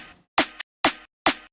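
Snare drum hits with an added stereo width layer, three sharp bright strikes at an even pace, the first followed by a quick extra flick, each decaying fast into silence.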